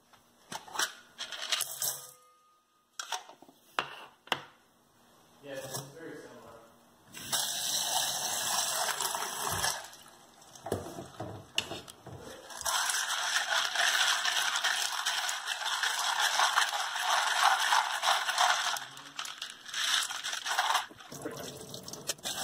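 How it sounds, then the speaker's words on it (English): Acrylic puzzle pieces being washed with soap and water, a run of clattering, rattling plastic knocks and clicks, with sections of running, splashing water under them. "And you can literally wash it with soap and water,"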